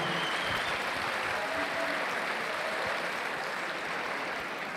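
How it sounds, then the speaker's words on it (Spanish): Sustained crowd applause for the winners of a cosplay contest at the Mangamore 2022 event, a thick, even wash of clapping that runs unbroken throughout. "Un aplauso muy fuerte."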